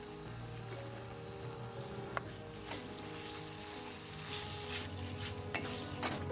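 Diced fish, fried calamari and prawns frying in a Spanish sofrito for seafood rice, a dense, even sizzle with faint crackles and the odd clink, steady and close throughout.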